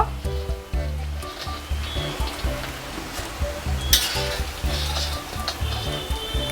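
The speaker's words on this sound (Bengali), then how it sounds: "আমি এই বড়াগুলো আস্তে আস্তে ভেজেই তুলে নেব" Steady hissing sizzle of chhana (cottage cheese) fritters frying in hot oil, with occasional clinks and stirring noises throughout.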